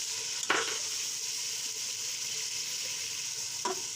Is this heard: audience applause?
no